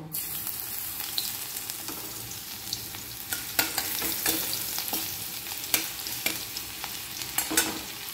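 Crushed garlic frying in oil in a pan for a bitter gourd and potato curry, giving a continuous soft sizzle with scattered crackles and scraping stirs throughout, fairly close, no talking.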